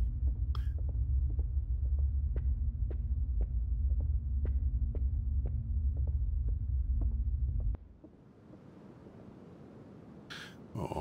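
Synthetic heartbeat effect from the ghost-hunting video game Obsideo, a steady fast rhythm of dull thumps over a low droning hum, loud and close, cutting off abruptly near the end.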